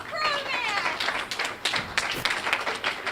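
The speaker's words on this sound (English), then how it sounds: "Round of applause for our volunteers!" An audience applauds volunteers at a live stage show, a burst of clapping mixed with voices, fairly close and steady for a few seconds.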